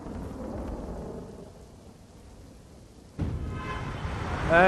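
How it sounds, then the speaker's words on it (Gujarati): Steady rain with gusty wind hisses throughout at the ISKCON crossroads in Ahmedabad, easing for a moment before a louder, heavier downpour surges in, with a deep rumble underneath. "વરસાદ હજી પણ ચાલુ છે"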